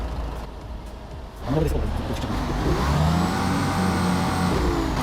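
A bus engine in a driving video game revs up hard with tires spinning, a rising mid-pitched drone that swells and holds, while someone talks excitedly over it.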